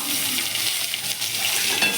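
Onions frying in hot oil tempered with black cumin seeds and a dried red chilli, a steady close sizzle with stirring running the whole time, no voices.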